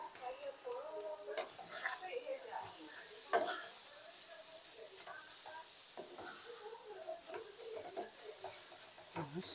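Tempoyak, fermented durian, fries and is stirred in a pan, giving a steady close sizzle with scraping stir strokes and occasional clinks, while voices chatter over it throughout.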